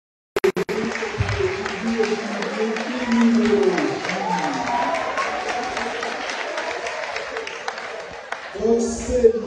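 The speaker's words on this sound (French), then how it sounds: "applaudissements mes amis." Audience applause at a graduation and diploma ceremony, a sustained wash of clapping with crowd noise that holds steady for several seconds before fading, with voices over it near the end.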